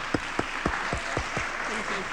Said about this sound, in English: giving a big round of applause to Rachel Coldicutt